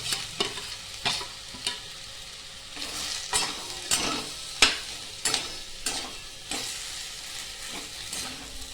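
Boiled potato with salt and turmeric sizzles in a frying pan as a utensil stirs and scrapes it in repeated strokes, close and steady, without talk.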